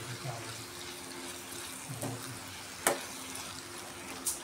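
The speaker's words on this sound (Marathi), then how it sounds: "जे शिंपी शिजवलेलं जे पाणी आहे ना, ते पाणी जेवढं मला हवं आहे ना तेवढं मी याच्यात टाकून घेते." Water from cooked river clams poured into a pan of spiced Konkan clam dish, a faint continuous trickling splash under a quiet background hum, with a couple of soft clinks near the end.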